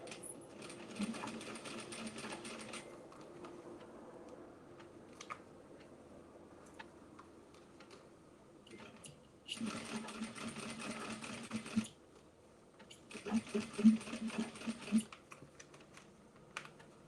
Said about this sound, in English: I'm going to sew about 1/8 of an inch away from the seam.